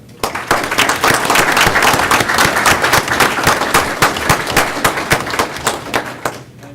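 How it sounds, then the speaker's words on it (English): An audience at a school board meeting applauds, a dense, steady burst of clapping that rises quickly and fades near the end. "I'd like to for us to give her a round of applause as well"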